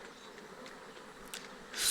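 Swarm of Apis mellifera honey bees settled high in tall trees, a faint continuous buzzing hum with brief louder passes of individual bees flying near, ending in a sharp rise of noise.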